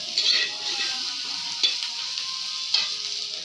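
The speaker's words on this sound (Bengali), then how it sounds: "আমি রাঁধুনি, ফুলকপি ভাজছি।" Cauliflower frying and being stirred in a pan, a steady sizzle with a few sharper scrapes of the spoon against the pan, close and alone without talk.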